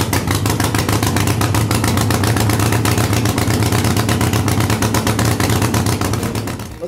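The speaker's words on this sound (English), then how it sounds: "Note that the exhaust has a dull sound." A motorcycle engine fitted with an S&S Super E or G carburetor runs with a rich mixture, giving a loud, steady, dull exhaust note with rapid even pulses that fades slightly at the end.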